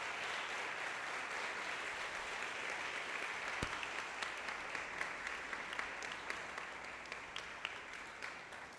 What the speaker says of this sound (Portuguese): Dá um forte aplauso ao Senhor Jesus essa noite